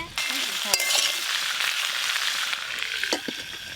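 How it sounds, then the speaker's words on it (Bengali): Vegetables fry in a covered pan with a steady, close hiss and sizzle, broken by a few light clinks of a utensil and occasional stirring. "চাপা দিয়ে সবজিগুলো ভালো করে ভাজবো।"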